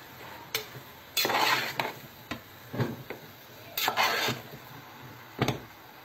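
A mixture is stirred in a bowl, with repeated close scrapes and clinks of a utensil against the sides in uneven bursts over a quiet background.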